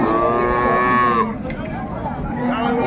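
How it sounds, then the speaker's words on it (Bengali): A dairy cow and her calf at Raniganj cattle market in Dinajpur give a loud, drawn-out moo that rises and then cuts off after about a second, with market noise continuing behind it. "এখানে একটা গাভী বাছুর দেখছিলাম।"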